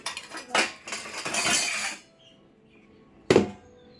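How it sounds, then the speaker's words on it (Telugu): Spoons and plates are put away, with a burst of metallic rattling and clinking over the first two seconds, a pause, then one sharp clatter, close by and moderately loud. "స్పూన్లు అందులో వెయ్యి, వెయ్యి అందులో వెయ్యి, అందులో వెయ్యి రిషి."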